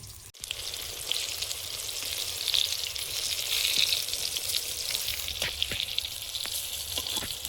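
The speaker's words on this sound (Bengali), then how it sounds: "বেগুনগুলো ভাজা হয়েছে, তুলে নেব।" Brinjal slices fry in hot oil in a pan with a steady, close hiss and crackle that runs throughout, with a few sharper pops and no speech.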